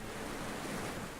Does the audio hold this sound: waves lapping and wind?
yes